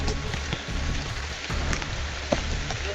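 Steady rain falls and patters on a surface, a continuous broadband hiss with scattered drop taps and one brief louder knock, with no voices over it.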